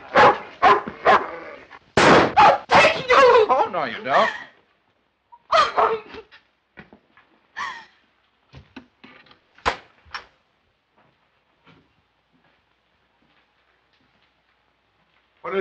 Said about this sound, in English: Get rid of that dog.